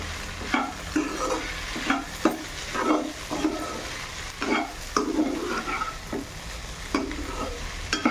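Okra and tomato curry stirred in a pan over a medium flame, with repeated scraping strokes of a spoon against the pan over a steady low sizzle and no voices.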